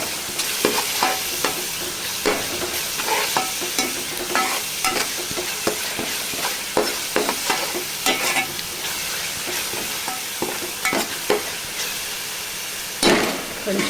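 Curry leaves, a handful, crackle and sizzle in hot oil for a crab curry while a spoon stirs, with sharp scraping clacks against the pan recurring through a steady close frying hiss.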